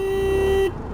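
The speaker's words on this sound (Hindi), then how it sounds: "तो start the acceleration test with 3 horns" A single steady horn blast from a Suzuki Burgman Street 125 or Hero Xoom 160 scooter sounds up close for about two-thirds of a second, then cuts off, leaving road and engine noise underneath.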